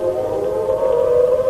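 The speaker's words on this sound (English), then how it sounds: "when the German bombers departed and the sirens moaned the all clear" Air raid siren in wartime London sounding the all clear after German bombers leave: one loud, steady, sustained moaning tone held evenly throughout, with no voices.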